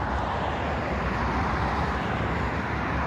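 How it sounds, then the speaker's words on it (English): Highway traffic near Stockholm University, a loud, continuous broadband roar of passing vehicles with no pauses and no voices. "You see by the highway, it's pretty noisy over here."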